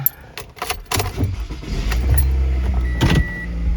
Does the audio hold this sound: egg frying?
no